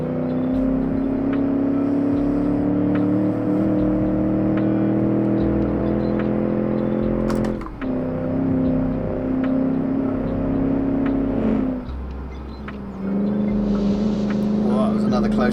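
A 1966 Gasmea car in a video game engine revving hard while driving, with a steady loud drone rising in pitch through the gears and brief dips at shifts; a voice talks over it.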